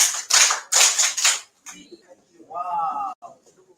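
An audience at a public-speaking academy event claps together on a count in several sharp, loud bursts of applause. A voice speaks once the clapping stops.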